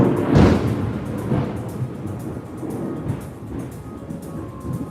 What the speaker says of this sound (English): It sounds like my neighbor's house just got struck with lightning.